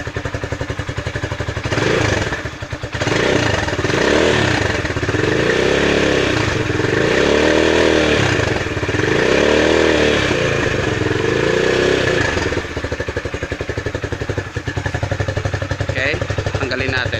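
A Rusi Classic 250 motorcycle with its stock twin exhaust idles and revs up close, its loud engine rising and falling in several rhythmic throttle blips, with someone speaking over it.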